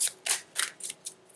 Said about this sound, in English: Give them a little shuffle here